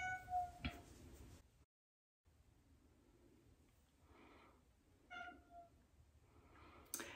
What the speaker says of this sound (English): Every time I shoot a video in the kitchen, my cat thinks she needs to eat.